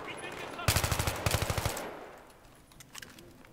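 Gunfire in the Battlefield 3 campaign: two loud, close bursts of rapid automatic fire with sharp repeated cracks, then a fading tail and a few distant shots.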